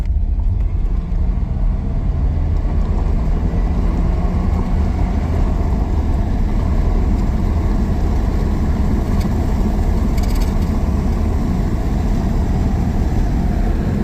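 A tired 1985 Mercury Marquis with a 351 Windsor police interceptor V8 running steadily, a loud, constant low rumble close by with no change in pace.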